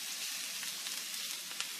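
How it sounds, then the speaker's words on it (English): Vegetables for a Philly cheese steak pizza sauté in a hot pan with a steady, close hiss of sizzling oil, fairly quiet and unbroken, with a few faint pops and no talk. "We're going to go ahead and saute this for a few minutes, get it on its way before we add the steak"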